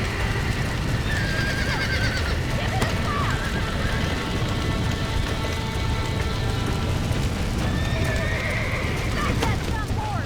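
In a Red Dead Redemption game scene, horses gallop with steady pounding hoofbeats, and sharp whinnies and neighs ring out over them while voices shout.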